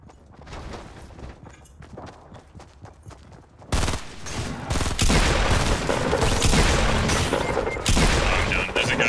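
Gunfire in the Fortnite Battle Royale video game: a steady string of shots that swells into a dense, loud, continuous barrage, with players talking underneath.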